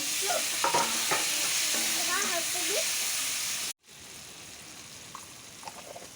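Tomatoes drop into spices frying in a pan, setting off a steady loud sizzle with stirring scrapes; voices talk over the hiss before it cuts out briefly and resumes quieter.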